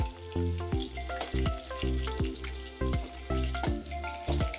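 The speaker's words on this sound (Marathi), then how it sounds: "भाजून चांगली मस्त ब्राऊन करून घ्यायचे" Food roasts in a pan until brown, with a continuous sizzle broken by regular clattering strokes as it is stirred and turned, close and fairly loud.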